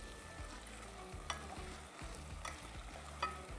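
Food being stirred in a cooking pan, the spoon making scraping clicks against the metal over a steady background sizzle, with a couple of sharper knocks along the way.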